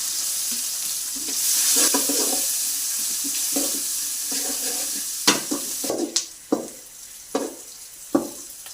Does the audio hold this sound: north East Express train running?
no